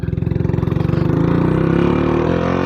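A Royal Enfield Classic 350 single-cylinder motorcycle with a chrome exhaust pipe thumps at a steady idle, its even low pulses rising slightly as the throttle is blipped, close and loud with no talk.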